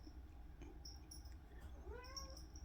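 A house cat gives a faint, brief meow near the end, rising then falling, against a quiet indoor background of low hum and soft workshop noises.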